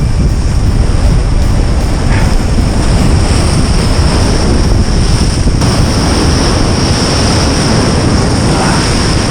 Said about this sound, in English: Getting smashed by the waves here